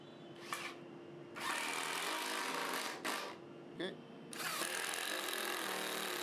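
A power drill drives 4x30 screws through a wooden spacer batten into a triangle frame for a tabletop build, with several whirring bursts of varying length separated by short gaps.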